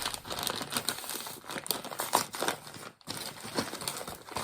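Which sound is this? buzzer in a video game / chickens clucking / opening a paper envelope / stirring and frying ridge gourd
opening a paper envelope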